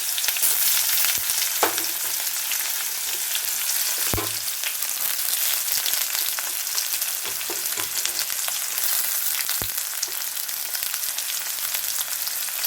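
Dried red chillies and onions frying in hot oil for a drumstick sambar, a dense continuous crackling sizzle with a few sharp knocks of a spoon against the pan, close and alone.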